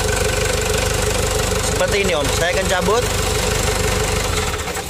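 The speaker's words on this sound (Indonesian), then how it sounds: "Mesin sudah dalam keadaan hidup" A Hino Dutro or Toyota Dyna truck engine idles steadily with a constant mechanical hum, loud and close, while someone talks over it.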